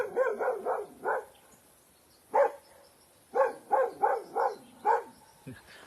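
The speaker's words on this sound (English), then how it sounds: "what are you barking at?" A dog barks in short bursts: a quick run of four or five barks, a pause, then another cluster of about six barks, moderately close.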